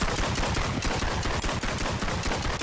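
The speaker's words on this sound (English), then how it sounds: "We see something, we gotta shoot it." Rapid automatic gunfire in the VR shooter game BONELAB, a loud, dense burst of shots firing almost without pause for a few seconds.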